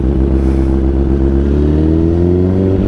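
A Honda CBR 1000 RR sportbike's engine revs hard during a test ride, its loud, close, steady roar climbing in pitch as the throttle opens.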